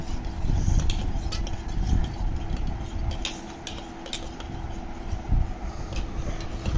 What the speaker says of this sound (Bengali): চামচটা এরকম ভাবে গোলাতে হবে